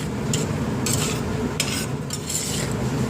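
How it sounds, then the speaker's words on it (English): A utensil stirs white beans through a tomato, garlic and onion mixture in a pan over low heat, giving steady soft scraping and gentle sizzling with faint clinks, no voices. "So when we stir them in here, we want to stir them in very carefully."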